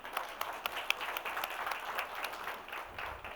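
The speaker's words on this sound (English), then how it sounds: "the team deserve a round of applause" A conference audience applauds in a brief, steady patter of many hands clapping, heard from a moderate distance in a large hall.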